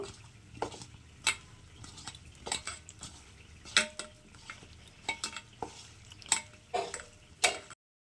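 Mushrooms being hand-mixed in a bowl with flour, chili powder and salt, giving soft, irregular clinks and scraping taps against the bowl, close and quiet, with no voices.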